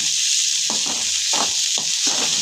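Tomato, green chilli and ginger garlic paste frying in a pan, giving a loud, steady hiss with three or four stirring scrapes at a regular pace.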